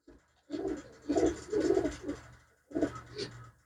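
Red Chinese pigeons cooing close by, several soft throaty coo phrases in a row separated by short pauses, with a faint low hum underneath.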